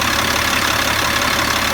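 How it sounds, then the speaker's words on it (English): A steady, loud truck engine idle with a continuous low rumble and broadband mechanical noise, no talking. "have someone go in the truck and idle it up"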